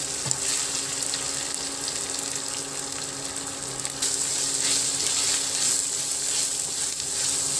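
Onions and ginger paste fry in a hot pan for a cashew and drumstick curry, giving a steady, close sizzle with faint watery crackle that holds evenly throughout, with no talking.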